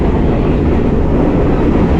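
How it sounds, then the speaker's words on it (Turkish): Train rolling past a hotel beside the tracks in a Sri Lankan forest, a loud, dense, continuous rumble that stays steady and close throughout with no talk over it. "Yan taraftan tren nasıl geçiyor sabahtan beri var ya anlatamam"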